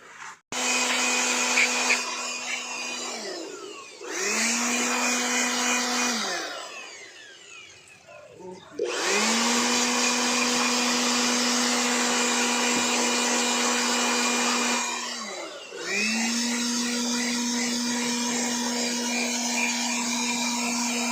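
An air blower whines steadily while cleaning the cabin filter area of a 2022 Isuzu Mu-X with an RZ4E engine, running in long bursts with short pauses between them, loud and close.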